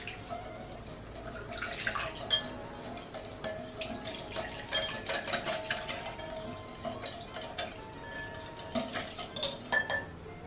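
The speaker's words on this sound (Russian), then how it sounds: "Далее размешиваем все жидкие ингредиенты." Liquid ingredients with malt for Italian rosemary focaccia dough are stirred in a bowl, giving irregular clinks and scrapes of a utensil against the bowl with light splashing, close and uneven, no talking.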